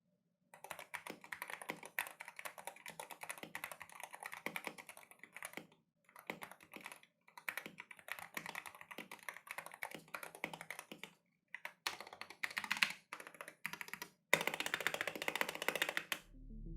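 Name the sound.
mechanical keyboard typing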